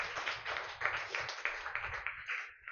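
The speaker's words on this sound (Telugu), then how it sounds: "గట్టిగా చప్పట్లు కొడదాం." An audience claps loudly and steadily for Republic Day, a dense wash of many hands with brief accented bursts, fading near the end.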